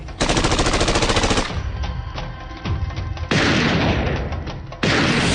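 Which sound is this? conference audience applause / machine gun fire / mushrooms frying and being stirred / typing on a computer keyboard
machine gun fire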